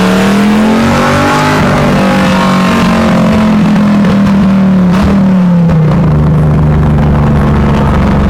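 A 1969 Pontiac Firebird with a 400+ hp LS3 V8 revs loud and close, its deep engine note rising and falling as it pulls away, with a brief tire chirp among the roar.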